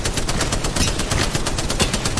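Automatic weapon fire in the video game Apex Legends, a loud, continuous rapid burst of gunshots with a steady fast rhythm and no pause, and no voices over it.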